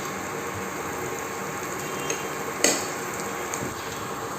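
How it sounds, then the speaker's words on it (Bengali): Vegetables frying in butter on a low flame: a steady, even sizzle close by, with a couple of faint utensil clicks and no voices. "এটা এরকমই ভাজা ভাজা হয়ে যাবে, সাথে সেদ্ধও হয়ে যাবে।"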